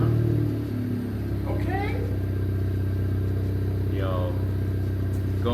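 An Acura Integra with a newly fitted Remark exhaust runs after its first startup, a steady loud engine drone close by, while people talk briefly over it.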